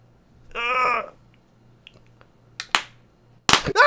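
A handheld Tesla gun bought from Amazon fires sharp electric sparks: a few crisp, loud cracks followed by a denser crackling burst at the end, after a brief voiced sound near the start.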